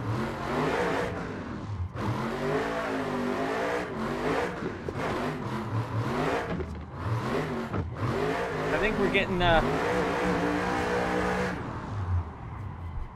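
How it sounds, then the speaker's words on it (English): A right-hand-drive 2024 Ford Mustang drift car is driven hard on a tight, twisty mountain road, its engine revving and surging in repeated rising and falling pulls up close, with someone talking over the noise. "we're definitely ripping this car as much as possible on these tight twisties"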